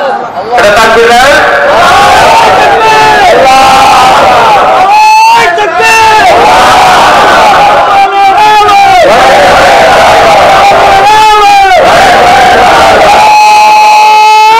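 A large crowd at a religious sermon shouts takbir in loud, repeated chanted bursts, voices rising together in waves over an amplified, echoing hall with a voice leading between calls.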